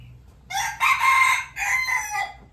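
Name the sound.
chicken crowing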